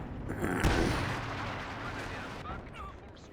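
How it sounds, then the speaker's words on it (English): Artillery fire in the World War II strategy game Company of Heroes 2: a single loud, close boom rings out early, then a rumbling tail of battle noise fades, with a faint voice over the top. "Artillery officer firing away."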